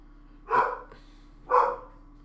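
A dog barks twice, about a second apart, each a short, sharp bark fairly close against a quiet background hum.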